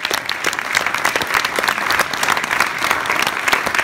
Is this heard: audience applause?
yes